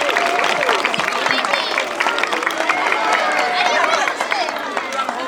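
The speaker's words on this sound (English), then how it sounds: "how about a round of applause for our first group of Golden Oak recipients?" A school audience applauds Golden Oak award recipients as their class arrives, with steady clapping and lively children's chatter and shouts filling the room throughout.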